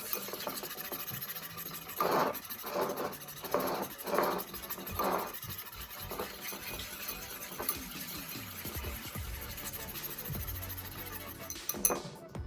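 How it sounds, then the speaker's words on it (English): Instant coffee mixture whisked in a cup or bowl, close scraping and rubbing strokes in quick bursts with softer continuous mixing noise. "I just whisk it."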